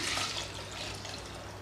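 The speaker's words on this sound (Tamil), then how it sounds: "இப்போ தண்ணி ஊற்றிக்கிறேன்" Water pours steadily into a cooking pot for mutton dalcha, a continuous splashing gush that stays loud and even throughout, with no voices.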